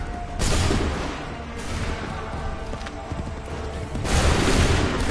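Musket volley fired on command in Assassin's Creed III: a loud crackling burst of massed shots, then a rumbling pause, then a second heavy volley near the end, over battlefield noise.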